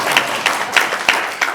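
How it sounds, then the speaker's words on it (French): A church weekend congregation applauds a couple's three grandchildren, with sparse, evenly spaced claps standing out over a continuous background hum for under two seconds. "et vous pouvez les applaudir si vous voulez."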